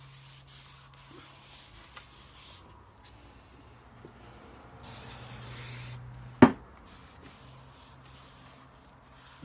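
Acura NSX CV axle parts being cleaned, with a steady spray hiss, a louder burst of spraying in the middle and a sharp clack just after, plus soft rubbing and handling noises throughout.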